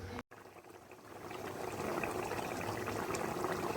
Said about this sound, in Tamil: இப்போ இதை ஒரு 1/4 மணி நேரம் நல்லா கொதிக்க விட்டுறலாம்.